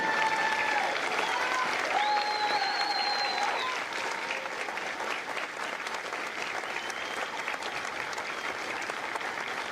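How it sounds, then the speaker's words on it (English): A crowd of spectators at a Marine Corps recruit graduation in San Diego applauds veterans who served as Marines, sustained broad clapping with a few whistles and cheers rising above it early on. "A round of applause for their dedicated service to foreign country."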